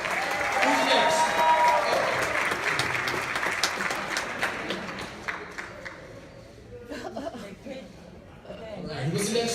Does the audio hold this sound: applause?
yes